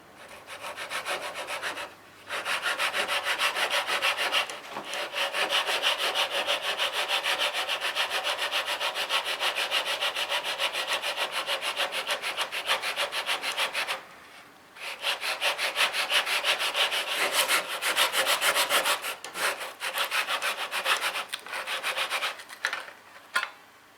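Hand saw cutting steadily through wood while making a bench hook, with a continuous rasping stroke broken by brief pauses around 2, 4.5 and 14 seconds, close and loud with no talk.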